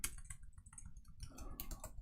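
Quick, close clatter of computer keyboard typing in an irregular run of light key presses that lasts about two seconds, with no talk.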